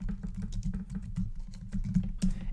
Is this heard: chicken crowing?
no